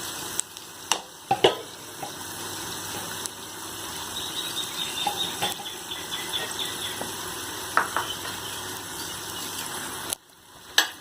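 Garlic rice is stirred in a frying pan over a steady sizzle, with occasional sharp scrapes and clicks of the utensil against the metal and a low background hum; no one speaks.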